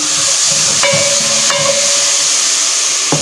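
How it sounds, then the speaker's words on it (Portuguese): Tomatoes frying in a pan give off a loud, steady hiss of sizzle and steam, with a few brief clinks and scrapes of stirring over it, and no voices. "Ele dá uma fritada, né? Tomate, tá? Dá uma mexidinha."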